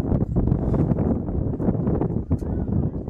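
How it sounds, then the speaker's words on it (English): Wind gusts across a college baseball field during an NCAA game, a continuous rough rumble buffeting the microphone, loud and close, with no other clear sounds standing out. "Wind really picks up here now."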